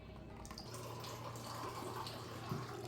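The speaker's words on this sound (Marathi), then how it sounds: "फ्राय झाल्यानंतर याला पण थोड्या वेळ फ्राय होऊ द्यायचं" Water poured into a pan of frying curry leaves for Maharashtrian-style kadhi, a steady faint rushing splash running throughout with no talk.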